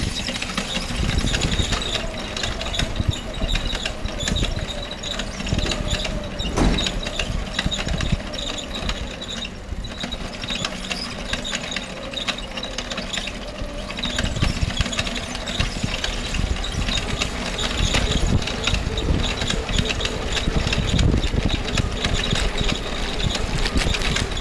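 A vehicle driving fast in a straight line before dawn, with steady loud mechanical running noise and a ratcheting, gear-like whir throughout, no voices.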